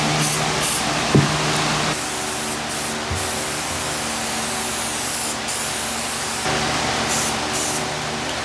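Black spray paint hissing from an aerosol can onto a coffee table build, a steady loud continuous spray with brief pauses and one short knock near the start.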